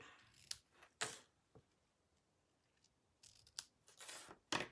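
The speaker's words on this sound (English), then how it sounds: "Let me get my sharp scissors and I'll just trim the ends of my ribbon." Sharp scissors trim the ends of a ribbon for a Christmas card, giving several crisp snips in quick bursts with short quiet gaps between them, close and clear.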